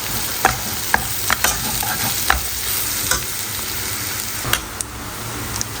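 Turmeric, red chili powder, garam masala, kasuri methi and coriander powder are stirred into frying paste for a chickpea-spinach curry, with a constant sizzle broken by repeated spoon scrapes and taps against the pan.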